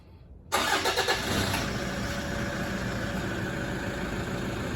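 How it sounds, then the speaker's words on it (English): A Toyota Hilux engine cranks and catches after a brief quiet moment, then settles into a steady, close idle that runs to the end, with no talking. "We're going to do a final start up the Hilux and have a look if it blows any smoke"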